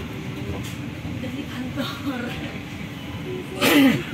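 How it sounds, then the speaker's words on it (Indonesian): Lodaya passenger train pulling out of Tasikmalaya station in Indonesia, a steady low rolling rumble heard from on board, with a brief brighter squeal near the end. "kereta api Lodaya diberangkatkan kembali dari stasiun Tasikmalaya"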